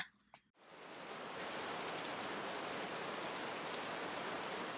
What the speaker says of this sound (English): It is a very rainy day in Seoul